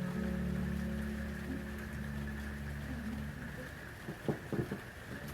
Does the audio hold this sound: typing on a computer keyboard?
no